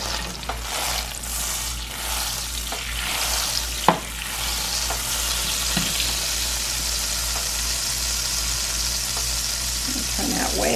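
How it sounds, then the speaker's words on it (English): Butter melting and browning in a frying pan: a steady close sizzle and crackle with a faint low hum underneath and one sharp tap near four seconds, continuous with no talking. "Your butter is melting nicely,"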